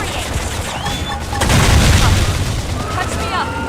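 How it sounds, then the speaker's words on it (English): Booming gunfire and explosions from a battle in the video game Xenoblade Chronicles X, with a heavy low thump swelling mid-clip under ongoing combat noise and character voices calling out. "Topple them with gunfire!"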